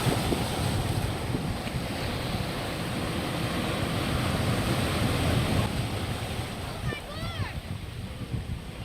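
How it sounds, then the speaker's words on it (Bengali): Surf at Digha beach on the sea coast washes steadily under heavy wind buffeting on the microphone, with a brief voice near the end. "ঢেউগুলো আসছে, দারুণ লাগছে"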